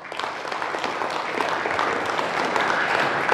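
Audience applause for a singer at a Mayday workers' gathering in Indonesia, a steady dense wash of clapping sustained at even loudness throughout.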